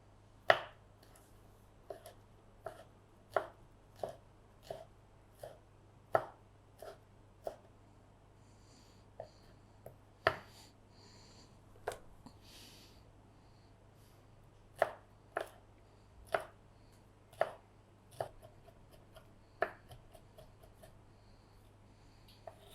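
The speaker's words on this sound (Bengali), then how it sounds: "এখন রসুনটাকে কেটে নিব।" A knife chopping two garlic cloves on a board, sharp isolated close cuts in an uneven rhythm with short pauses, over a quiet low hum.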